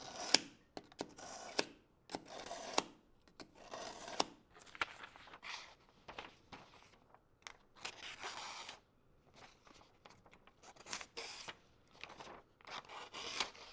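A dull knife is drawn across a sheet of A4 paper again and again, giving rough scraping and rubbing strokes in uneven bursts, close up and fairly faint.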